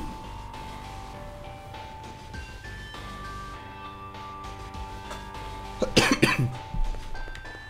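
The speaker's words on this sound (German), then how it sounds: "Gott, dieser Husten." A short burst of coughing occurs near the end, heard over a background of quiet video game music and ambient tones, with no talking.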